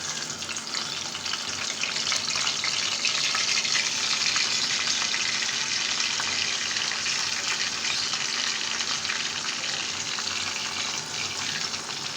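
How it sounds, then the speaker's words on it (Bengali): Pieces of pangas fish, the head first, go into hot oil and fry with a loud, continuous crackling sizzle that holds even throughout. No one speaks over it. "এখন এক এক করে সবগুলো মাছ দিয়ে দিচ্ছি আগে মাছের মাথাটা দিয়ে দিচ্ছি"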